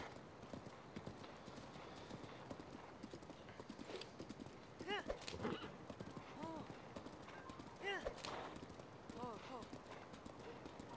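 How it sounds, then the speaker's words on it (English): A horse in Zelda: Breath of the Wild gallops with rapid rhythmic clip-clop hooves and neighs a couple of times, close and fairly loud, while a person talks over the action. "This is a great horse, though."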